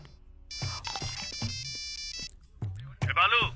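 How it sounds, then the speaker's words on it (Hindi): A phone's electronic ringtone chimes repeatedly over several seconds while a person talks over it, and nobody picks up. "ये बालू फोन नहीं उठा रहा।"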